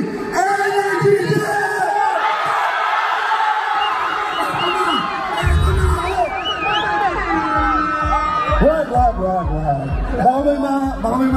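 A crowd at a Team Payaman fan fair shouts and cheers loudly in a sustained roar, mixed with whoops and children's voices, while a host's voice carries over the noise.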